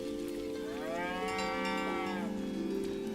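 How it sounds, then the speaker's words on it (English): A cow in a video game trailer lets out one long, clear moo that swells and fades over about a second, over a steady musical bed. "So you can pet the cow."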